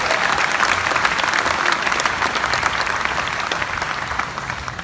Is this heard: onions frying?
no